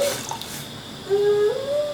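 Water is poured into a pot of coconut milk for a Thai green chicken curry, a close, continuous pour whose pitch slides upward as the pot fills.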